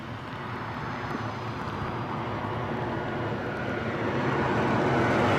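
Airplane approaching Newcastle airport, a steady broadband engine roar that builds gradually as it draws nearer, with wind buffeting the microphone and no talking.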